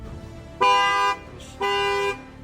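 A Camaro's factory car alarm, set off by banging on the window, gives two loud horn honks of about half a second each, separated by a short pause.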